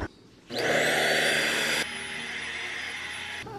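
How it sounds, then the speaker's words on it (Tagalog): A Deerma handheld vacuum cleaner for beds and sofas switches on with a sudden loud whine and steady airflow roar, then drops to a slightly lower, continuous hum as it cleans a room, close by. "I got my vacuum from Lazada that is 900 pesos"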